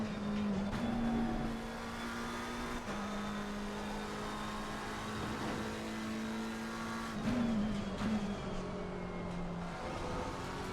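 A race car engine in the Live for Speed racing game, on the Kyalami circuit, holds a steady, droning note that shifts in pitch at a couple of gear changes, loud and continuous with no voices.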